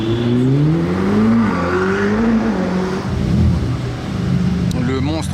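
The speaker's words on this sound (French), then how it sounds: "J'adore le bruit que ça fait une GT2 RS, c'est tellement lourd." A Porsche GT2 RS sports car engine revs and pulls away on a street in Monaco, a loud, deep, rising and falling engine drone with the pitch climbing through gear changes, heard close and without talk.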